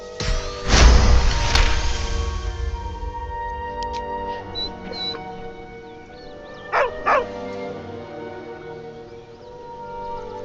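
A dog in Baldur's Gate 3 lets out a pair of short whimpering yips near the end, faint and close, set under game music after a loud roaring burst at the start.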